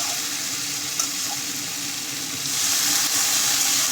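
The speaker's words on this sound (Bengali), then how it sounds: "সব কিছু আমার ভালোভাবে কষানো হয়ে গেছে, এখন আমি জল দিয়ে দেবো" Fish and green tomato curry frying in a pan, with a loud, dense sizzle that swells louder toward the end as water goes in.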